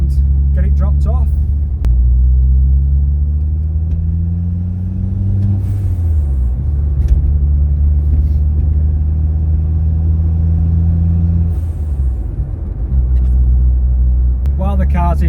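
A 1988 Ford Escort RS Turbo cruising on the road, its engine a steady loud drone inside the cabin with smooth rises and falls in pitch as it accelerates and shifts.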